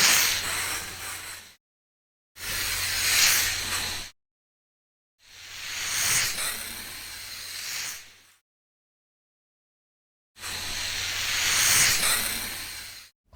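Unlit gas hisses from the open valve of a small portable camping stove in four separate bursts, each a steady, close, broadband rush lasting one to three seconds, with silent gaps between them.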